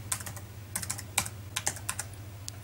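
Keys on a computer keyboard tapped in short bursts of separate clicks, close and fairly quiet over a low steady hum, while trying out the SymbOS 2.0 operating system.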